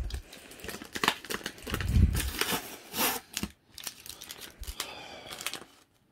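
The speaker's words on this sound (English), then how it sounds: "Use the scissors and just cut" Scissors cutting through heavily taped paper, uneven crinkling snips and tearing crackles in short bursts, close and moderately loud, with pauses between cuts.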